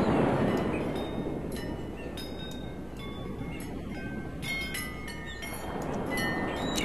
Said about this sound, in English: Some wind chimes.